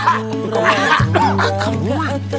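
A single short cough, close by, with a low steady hum underneath and a voice-like murmur around it.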